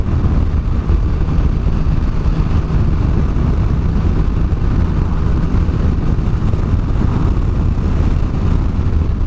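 A Triumph Rocket 3 motorcycle rumbles along at speed, its loud engine drone blended with heavy wind rush, steady and close throughout.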